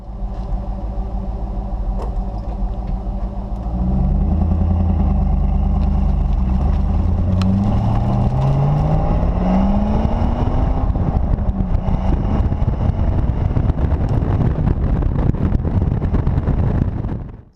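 Fourth-generation Pontiac Trans Am WS6 F-body on a drive, engine note rising and dropping through gear changes from inside the car, loud and steady with road and wind noise beneath.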